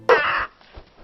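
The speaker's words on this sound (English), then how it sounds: "in Maleficent's case, her pet raven, Diablo" Raven cawing, a single loud harsh caw that is short and close, followed by quiet.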